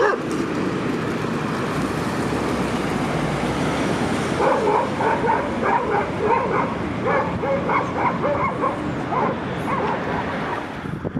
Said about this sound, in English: So many stray dogs.